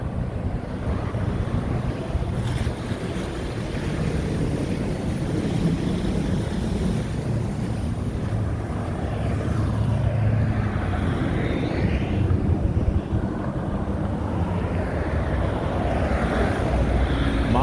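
Cold wind gusting outdoors beside a car dealership in Saskatoon, Saskatchewan, Canada, a steady, loud rush of broadband noise buffeting the microphone throughout, with no talk.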